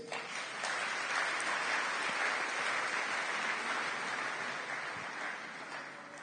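A church congregation applauding together, a dense sustained wash of clapping that holds steady for several seconds before tapering slightly, heard at moderate distance without speech.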